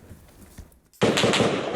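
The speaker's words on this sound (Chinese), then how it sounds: "后方竟传来枪声" Gunfire breaking out behind a European diplomat during a news interview in Washington, a sudden loud burst of cracking shots that cuts in after quieter background noise and continues as a dense, sustained volley.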